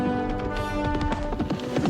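Horse hooves galloping on a track, a rapid, rhythmic thudding of close, fairly loud hoofbeats over a short stretch without talk.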